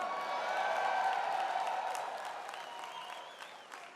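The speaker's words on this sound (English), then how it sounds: "I'll take a cheer for Austin" A crowd at a presidential campaign announcement rally cheers and applauds, a swelling roar with whoops that peaks early and then gradually tapers off, heard from a distance.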